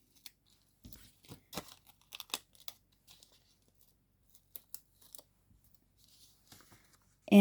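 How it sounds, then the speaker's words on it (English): Parchment craft layer of vellum carefully peeled off a card: faint, scattered crinkling and soft tearing sounds in short bursts, quiet and close, with no talking. "And so we'll just carefully peel this off."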